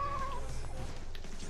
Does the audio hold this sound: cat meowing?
yes